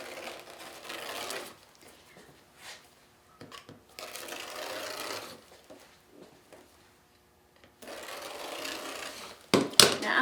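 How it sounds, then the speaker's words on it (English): Poly mesh cut into 10-inch strips for a burlap Easter wreath, several bursts of close rough snipping and rustling separated by quiet gaps, ending in a short louder crunch. "So I'm going to cut the mesh and we're going to cut 10-inch widths."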